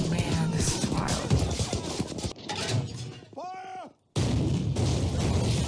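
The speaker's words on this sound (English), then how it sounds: "these guys are snipers with those mortars" Mortar fire in the war drama Band of Brothers: dense, loud crashing blasts and debris rattle pound continuously, interrupted by a short shouted voice and a momentary cut to silence before the barrage resumes.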